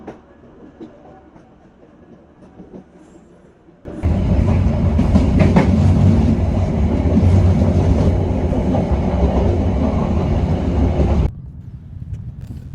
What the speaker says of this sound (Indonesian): Wah ternyata ada kereta api lagi guys.